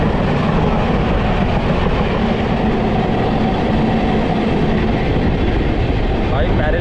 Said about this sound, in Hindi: भाई पैरेलल ओवरटेक हो रहा है अमृत भारत वर्सेस लोकल।